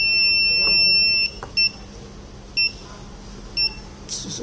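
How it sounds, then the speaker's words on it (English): An ultrasonic blind stick's LDR sensor buzzer emits a long electronic beep, followed by three short, evenly spaced beeps about a second apart, loud and close over a quiet background. "So just I'm closing the LDR. So you can get the LDR beeps."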